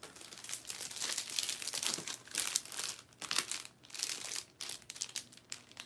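Plastic packaging around a set of plastic binder tabs crinkles and crackles in quick, irregular bursts up close, rustling steadily throughout.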